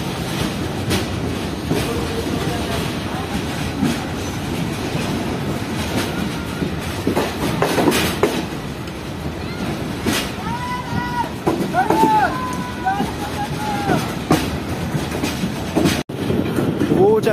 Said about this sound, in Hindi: कितनी लंबी ट्रेन है, कितना लंबा देख है ट्रेन का, क्योंकि ये मालगाड़ी है।